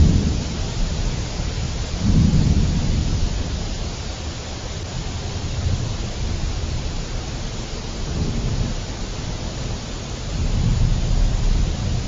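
Steady outdoor rain pours throughout, with low rolling rumbles of thunder swelling around two seconds and again near the end; a broad, continuous wash of noise with no voices.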